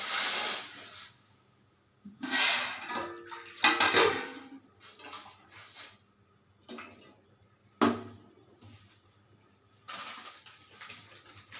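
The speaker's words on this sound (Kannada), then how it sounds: "ಸೊ ಪಾತ್ರೆಗೆ ನೀರು ಹಾಕ್ತಾಯಿದೆ" Water running into a cooking pot in a kitchen, with bursts of splashing and hissing flow across several pours, some clinks of the pot in between, loud and close.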